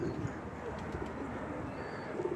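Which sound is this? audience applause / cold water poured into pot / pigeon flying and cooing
pigeon flying and cooing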